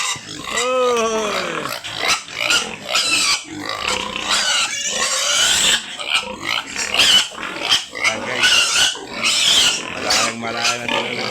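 Hungry pigs in a backyard pen squeal and grunt loudly in the morning, a chaotic close chorus of overlapping cries with a person talking over them.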